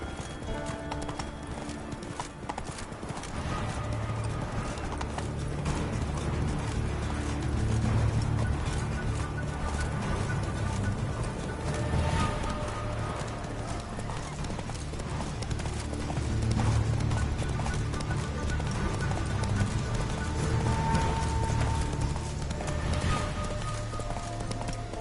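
Roach the horse gallops in The Witcher 3: Wild Hunt, a dense, continuous patter of hooves that stays steady and prominent, with game music and ambience underneath.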